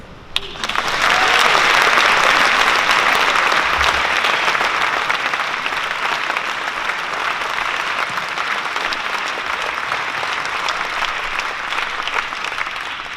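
A large audience bursts into loud, sustained applause at a live event, with dense clapping that peaks early and then holds steadily for over ten seconds.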